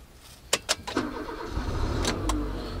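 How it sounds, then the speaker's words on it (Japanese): A car engine is started: a few sharp clicks and a brief crank, then the motor catches and settles into a low, steady idle close by. "これエンジンかけるとね"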